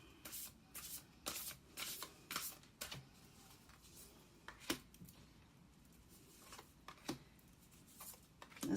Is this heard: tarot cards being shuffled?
yes